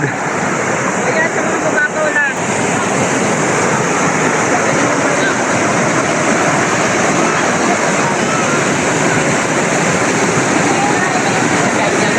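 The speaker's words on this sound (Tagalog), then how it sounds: "Ilog." Majayjay river in a rural Philippine countryside setting, rushing in a loud, continuous broadband wash with wind buffeting the microphone, steady for twelve seconds with a brief dip near the start.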